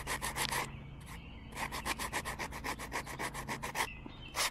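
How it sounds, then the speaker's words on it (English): Very coarse sandpaper rubs in quick rhythmic back-and-forth strokes over a paper mache clay figure, close and fairly faint, with one short pause midway. "I'm going to use this little deal on a very coarse sandpaper."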